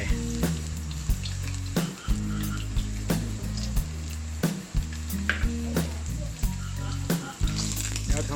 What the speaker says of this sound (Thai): การผัดเจียวกระเทียมให้เหลืองหอมก่อนนะครับ